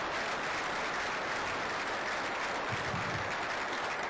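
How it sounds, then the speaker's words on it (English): Dense, sustained audience applause at a business day event in Madison, steady clapping from a large crowd filling the whole stretch at even loudness. "Let's give the WMC staff a hearty round of applause"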